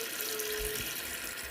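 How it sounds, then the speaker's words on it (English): Water runs steadily from a kitchen tap while Haitian soup joumou is being cooked, a constant close splashing hiss with a faint tonal hum at the start. "she's adding water so that she can do what with it"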